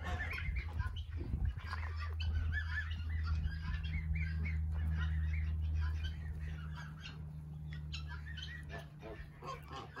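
A flock of turkeys gobbles and squawks continuously nearby, a busy overlapping chorus of bird calls over a low droning hum.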